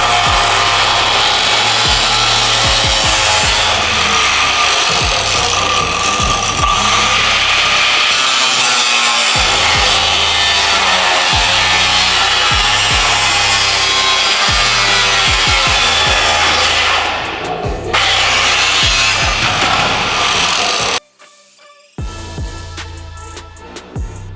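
A power tool cuts through the fire-damaged passenger side door frame panel of an Acura NSX. It makes a loud, continuous, rasping grind that pauses briefly near the end before quieter cutting resumes.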